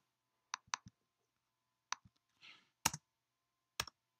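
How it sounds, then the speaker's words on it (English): Computer clicks, heard as a few sharp, isolated taps spaced out over several seconds in a quiet room, close and fairly loud with silence between them. "Oh, I forgot to click."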